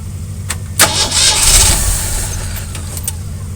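A 40-year-old Jeep CJ7 engine, connected to a jump box, cranks and catches. It settles into a loud, steady idle close by, over a constant low rumble.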